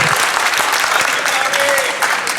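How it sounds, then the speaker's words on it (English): An audience at a conference panel session on inclusive water gives loud, sustained applause, the clapping dense and even throughout with no pause. "can we please also give a huge applause to the panel?"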